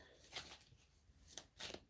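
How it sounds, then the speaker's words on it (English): Slippery tarot cards being shuffled by hand, giving a few quiet riffling bursts close by with short pauses between them and no talk. "These are very slippery cards, so difficult to shuffle."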